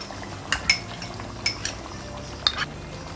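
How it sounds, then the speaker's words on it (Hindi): A spoon stirs cream into chicken karahi gravy in a pan over low heat, giving a few crisp metallic clinks against the pan in pairs over a soft background hiss, with no talking. "अब आंच को हल्की करके इसके अंदर ये हम क्रीम डालें।"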